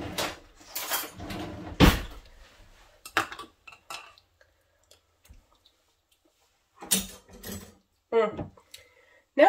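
A spoon is fetched in a home kitchen: a drawer or cupboard clatters, cutlery clinks loudly a few times, then scattered small clicks and taps follow after a quiet stretch, close by.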